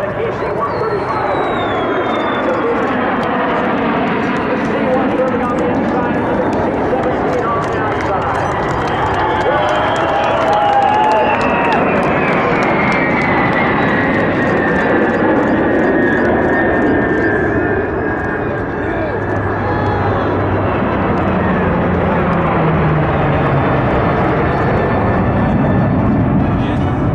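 Military aircraft including a B-52, B-2, B-1 and KC-135 roar past in a mass flyby at Edwards Air Force Base, a loud sustained jet rumble with a slowly shifting whine as they pass overhead, with crowd noise underneath.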